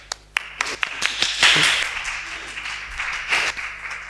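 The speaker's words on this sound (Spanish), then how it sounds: "Un aplauso." Scattered claps from a small audience at a municipal communication centre talk in Huelva, starting as separate hand strikes and briefly thickening into light applause.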